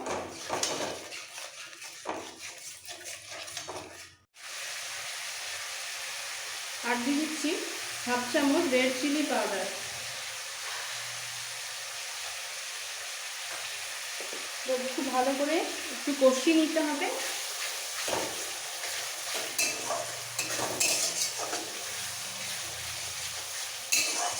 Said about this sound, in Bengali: এক চামচ জিরে বাটা এর মধ্যে দুটো শুকনো লঙ্কা বেটে নিয়েছি সবটা দিয়ে দিচ্ছি এবার একটু মিক্স করে ফেলবো